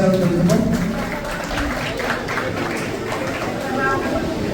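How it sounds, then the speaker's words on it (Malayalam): Audience clapping at a school event, a steady loud wash of applause that runs the whole time, with voices and crowd chatter mixed in. "കൈയടിച്ച് പ്രോത്സാഹിപ്പിക്കാൻ"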